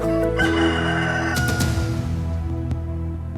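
Backyard pet chickens, with a rooster crowing loudly up close and the flock clucking around it, no talk.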